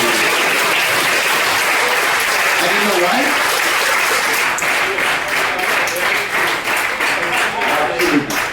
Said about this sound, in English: I love the way you clap.